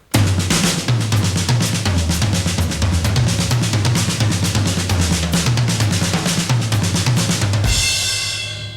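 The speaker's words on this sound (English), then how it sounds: "let's just take the accents and place them around the toms to create other rhythms." A 1985-era drum kit is played loud and close, with fast 16th-note accents moved around the toms over a steady kick and cymbal wash, forming a dense, driving rhythm that ends on a crash.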